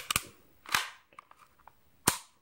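Tokio Marui Hi-Capa Dual Stainless airsoft pistol firing three sharp, close shots: two in quick succession, then a lone third after a pause, with faint mechanical clicks between.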